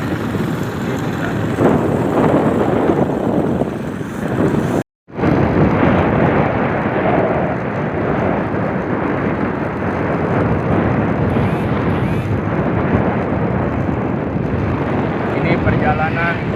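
Heavy wind buffets the microphone on a Honda motorcycle riding along a rural road, a constant loud roar broken by a brief dropout, with a voice speaking over it.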